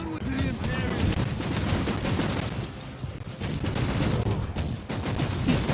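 Dense, continuous rapid gunfire fills a battle scene in the video game Warhammer 40,000: Inquisitor - Martyr. Machine-gun bursts and heavy shots overlap almost without pause, loud and close, with no voices.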